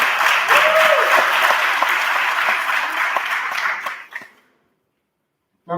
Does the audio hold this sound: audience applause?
yes